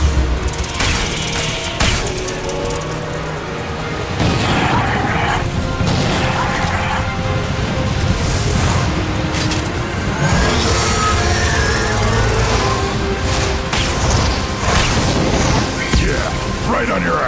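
Heavy gunfire and repeated explosions from the sci-fi shooter game Mass Effect 2 hit loud and dense throughout, with booming blasts and crashing impacts layered under shouted combat voices.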